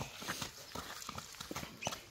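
A two-year-old unbroken horse, a young chestnut, walks on hooves with soft, steady clip-clop steps at a moderate distance, at a relaxed irregular rhythm, no voices present.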